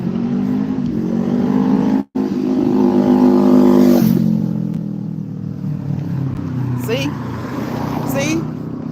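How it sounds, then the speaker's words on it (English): Loud engine roar of motor vehicles passing close by, rising and fading over several seconds, with wind buffeting throughout. "See that right there. Motorcycles."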